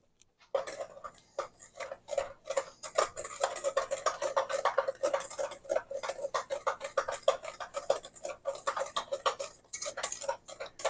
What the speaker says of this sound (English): We're going to take a whisk and we're just going to whisk it around.